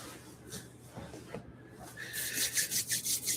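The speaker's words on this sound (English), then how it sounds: "Rubbing your hands together." Palms rub together in quick, rhythmic strokes that grow louder near the end, a dry swishing friction close by after a few quieter movements at the start.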